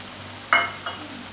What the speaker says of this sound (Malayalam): അപ്പോൾ ഒരു 3 കപ്പ് വെള്ളം ഞാൻ ഇതിലേക്ക് ഒഴിച്ചു കൊടുത്തു